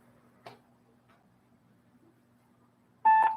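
A telephone calling back with a short tick, then near silence, then a single loud electronic tone, close and clear.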